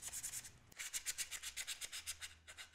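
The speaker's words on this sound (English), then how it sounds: "I went ahead and used some 80, 120, and 220 grit sandpaper to smooth the surface" Sandpaper rubbing on a wooden handheld game console case, quiet rhythmic back-and-forth strokes, about a dozen in steady succession, close and alone.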